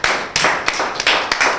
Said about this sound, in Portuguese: Um aplauso para a italiana.